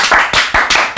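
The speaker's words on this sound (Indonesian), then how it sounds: "Tepuk tangan." Podcast hosts clap to welcome a guest, a few quick claps in uneven bursts, close and fairly loud, no talking.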